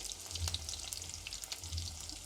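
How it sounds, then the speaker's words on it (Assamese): Peeled tomatoes fry in a pan for an Assamese lunch thali, giving a steady close sizzle with faint stirring clicks throughout, and no voices. "এয়া এইখিনি ভাজি ল'ম, ধুনীয়াকৈ ভাজি ল'ম।"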